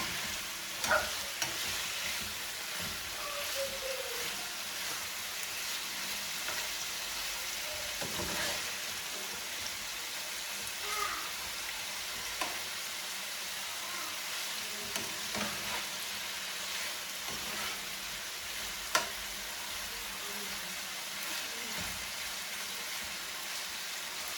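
Steak fried rice stir-fries in a hot pan, a steady loud sizzle broken by repeated scraping and clacking as the pieces are tossed and flipped.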